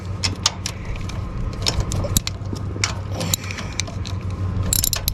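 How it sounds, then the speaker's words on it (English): A wrench loosens the drain nut on homestead equipment during an oil change, giving repeated metallic ratcheting clicks and clanks at close range over a steady low rumble, with a sharp rattle near the end. "we're going to stick it over this drive with this wrench and see if it will break it, the nut"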